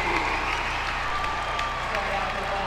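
A crowd applauds at a 1991 men's volleyball match against Ohio State, a steady wash of clapping and crowd noise with a commentator talking over it.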